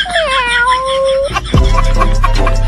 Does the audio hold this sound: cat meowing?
yes